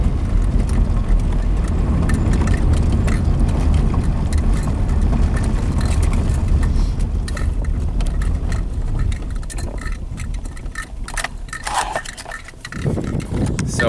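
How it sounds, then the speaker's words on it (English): A Toyota Camry being driven on the road, its engine and tire rumble droning steadily from inside the cabin as a low broadband roar that eases slightly toward the end. "Car's driving great."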